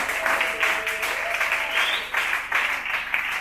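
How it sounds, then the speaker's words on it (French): A church congregation bursts into loud, sustained applause and clapping that fills the space for several seconds. "acclame très fort le roi"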